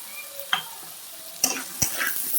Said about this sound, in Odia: ଆଳୁ ବାଇଗଣ ଭଲସେ ଭାଜି ହେଇଯାଇଛି